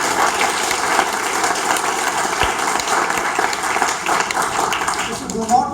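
An audience at a motivational talk applauds in a steady wash of clapping, with a voice speaking over it.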